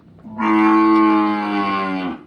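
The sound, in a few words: Gir cow mooing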